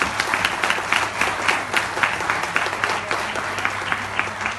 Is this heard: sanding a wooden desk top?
no